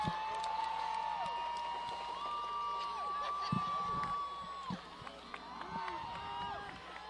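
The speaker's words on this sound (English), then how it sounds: "So here you hear the crowd getting into it here" A crowd cheering at a high school football game, a distant roar and whoops from the stands with scattered thumps, while a voice talks over it.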